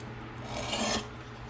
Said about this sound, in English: We're basically deburring at this point.